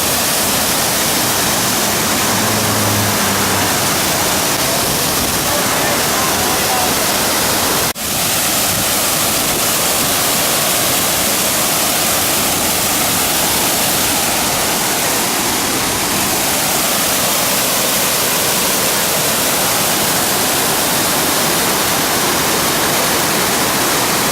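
Rushing water roars at a waterfall on an Alaskan tour stop, a dense, loud, unbroken wash of noise close by for the whole stretch, with no voices.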